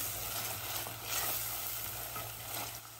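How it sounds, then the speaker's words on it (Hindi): Chopped tomato frying in a pan until soft, a steady soft sizzle with faint stirring scrapes running throughout, close and even, with no voices. "इसे हमें फिर से अच्छे से भूनना है टमाटर सॉफ्ट होने तक।"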